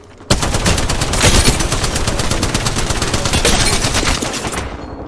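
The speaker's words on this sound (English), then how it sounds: "I am taking fire, friends." Sustained rapid automatic gunfire in the Apex Legends battle royale game, loud and close, continuous bursts for about four seconds with no talk.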